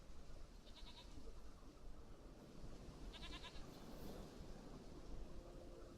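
A goat bleats twice in The Witcher 3, a short wavering call near the start and another about halfway through, faint over a constant dense background rumble.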